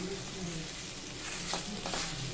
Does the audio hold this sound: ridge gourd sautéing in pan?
yes